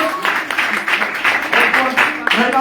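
A congregation at a church gathering claps together in a loud, continuous burst of applause, with voices mixed in beneath the rapid hand claps.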